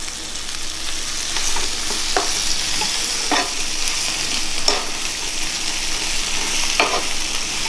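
Chard sautéing in a pan with wilted shallots, a steady close sizzle broken by periodic scraping stirs, with no talk over it.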